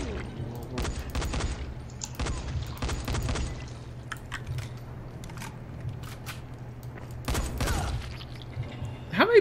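Gunfire in the video game Dying Light: The Following, a series of short bursts of shots over a low steady background hum, loud clusters early and again near the end, with a voice briefly heard.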